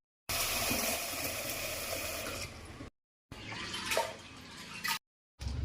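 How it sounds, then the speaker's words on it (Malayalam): Running water splashes steadily, briefly stopping twice, with swishing as lentils are rinsed by hand in a bowl. "ഇനി നമുക്ക് ഈ പരിപ്പ് നന്നായിട്ടൊന്ന് കഴുകിയിടാം."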